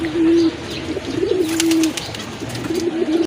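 A pair of white-eyed pigeons coo nearby in soft, repeated low rolling calls across a few seconds, loud and clear, with no speech over them.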